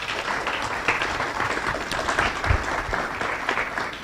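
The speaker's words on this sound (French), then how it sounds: "que je vous demande d'applaudir." A conference audience at an Islamic thought colloquium claps throughout, giving steady, moderately loud applause with a dense crackle of many hands.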